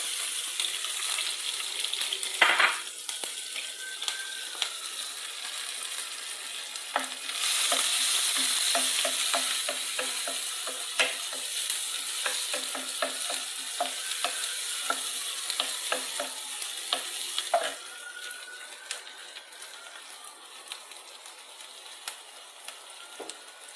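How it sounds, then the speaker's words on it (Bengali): Chopped onion and green chillies fry in hot oil in a pan for a magur fish and bean curry, giving a continuous close sizzle with frequent stirring clatter and a louder burst when they go in. "তারপরে তেলের ভিতরে দিব পেঁয়াজ আর কাঁচামরিচ।"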